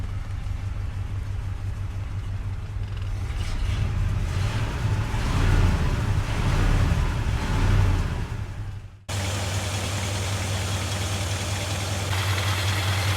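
A 1969 Ford F100 truck engine idles steadily and close after its first start in years, a low rumbling drone that swells slightly mid-way before a brief dip and settles back to an even idle.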